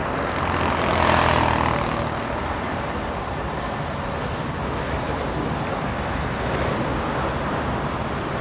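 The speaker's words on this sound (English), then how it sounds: "Avianca getting a move on, 1 hour delay, flying to San Salvador this afternoon." An Avianca airliner bound for San Salvador takes off at LAX, a broad steady jet roar with a louder swell early on, then a sustained rushing engine noise with no talk.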